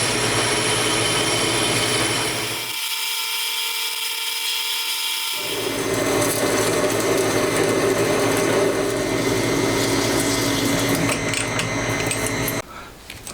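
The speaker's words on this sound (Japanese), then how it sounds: "じゃあ突っ切っちゃいますかね" A lathe parts off a machined piece for a Honda Monkey engine being converted to a 124.4cc four-cylinder, giving a continuous loud grinding, whirring machining noise with a brief dip in low rumble partway through before running on steadily.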